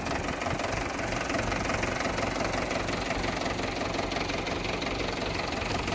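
A used Mahindra 475 tractor engine idles steadily close by, with a loud, constant diesel rumble and a slight knocking texture and no talk over it.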